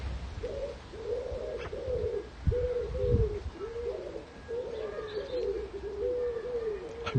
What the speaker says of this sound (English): No, that's a bird.